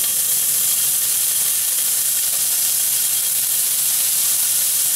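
Pancetta cooks over really low heat in extra virgin olive oil in a pan, giving a loud, steady, close hiss and sizzle that holds even throughout with no talking.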